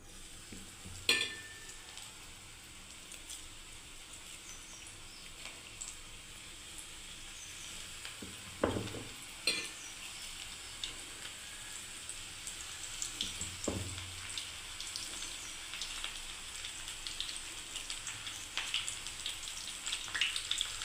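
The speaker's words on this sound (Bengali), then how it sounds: "তো দেখুন আমি ছোট্ট ছোট্ট করে এবারে দিয়ে দিচ্ছি বন্ধুরা তেলের মধ্যে। তেলও গরম হয়ে গেছে।" Small onion pakoras sizzling in hot oil, a steady low crackle and bubble with a few louder pops and splashes as pieces drop in, close and continuous, no voices.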